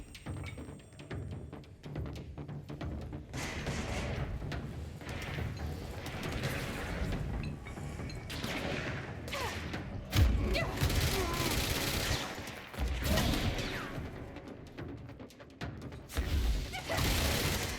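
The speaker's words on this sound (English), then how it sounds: "What is that explosion thing that they do that they've never done before?" Enemy explosion attacks and bursts of gunfire in the action game Control, loud crashing blasts repeating through a busy combat mix, with sharp peaks near the middle and end.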